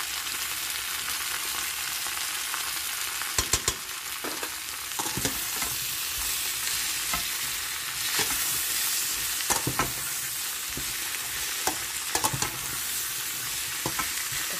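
Chili powder and cumin powder being stirred and fried in a pan, a steady bright sizzle with repeated scraping strokes of the spoon throughout, close and alone.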